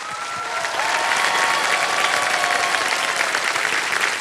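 A studio audience on a quiz show gives a standing ovation, with dense, continuous clapping that swells after a moment and holds steady and loud throughout.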